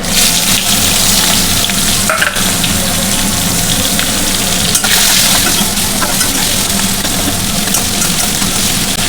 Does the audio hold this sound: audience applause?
no